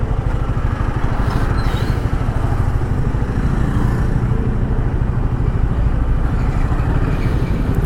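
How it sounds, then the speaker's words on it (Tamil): Traffic flows steadily along a road during a solo motorcycle ride in Kerala, with a continuous rumble of engines and passing motorcycles and cars mixed into constant wind noise, loud and unbroken throughout. "வண்டி நிறையா வருது."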